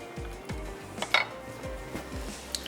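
A spoon scrapes and clinks against a cooking pot as food is stirred for saag qeema, several short metallic knocks and scrapes in an irregular rhythm, close and moderately loud, with no talking.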